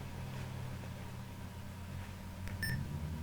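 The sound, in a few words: Sega SC-3000H memory test error beeps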